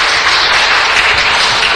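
An audience at a city council meeting bursts into dense, loud, sustained applause that fills the whole short moment.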